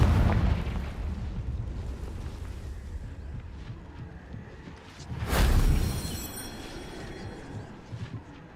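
Confringo explosion spell in Hogwarts Legacy: a loud, sharp blast erupts over a rumbling low background, then decays into a ringing tail with some crackle.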